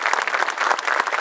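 Applause at a school's 150th anniversary official ceremony, a short burst of dense, continuous clapping from a gathered crowd, moderately loud and even throughout.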